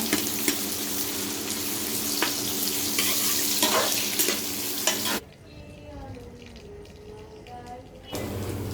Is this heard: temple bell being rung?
no